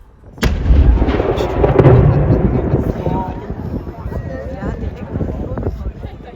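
The One O'Clock Gun fires at Edinburgh Castle: a single sharp, loud cannon blast followed by a long rolling echo that slowly fades, with a voice talking over the tail.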